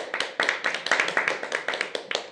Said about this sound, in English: Let's clap for player number